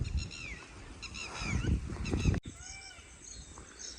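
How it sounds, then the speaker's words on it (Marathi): A peacock's loud, nasal calls repeat several times up close in a Maharashtra village, then a few fainter calls follow after a brief break. "मेव मेव जो स्टार्टिंगला आवाज होता तो मोराचा होता"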